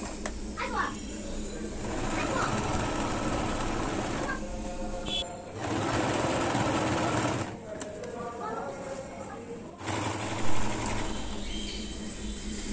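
Household sewing machine stitching in a home, a steady mechanical whir running in bursts with short pauses between runs, close and fairly loud, with faint background sounds.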